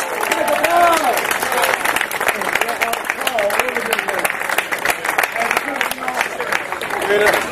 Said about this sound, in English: How about a hand for the stars of the show? Give them a round of applause.